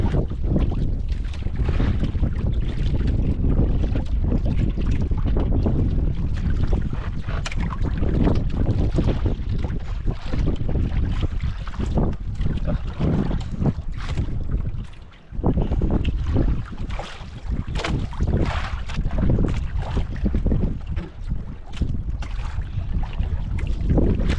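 A small fishing boat out on open water, with steady wind buffeting the microphone and continuous water and engine-like rumble throughout, dipping briefly midway before resuming.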